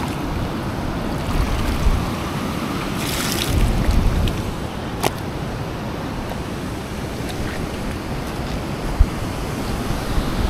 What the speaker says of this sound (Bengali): এই যে নিচে কিন্তু ঝর্ণাটা প্লাবিত হচ্ছে